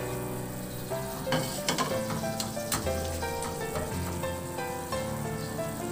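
Carrots and chicken stock stirred in a wok for sotanghon guisado while scraping loose the browned bits stuck to the pan: a steady close sizzle with a cluster of sharp spatula clicks and scrapes midway.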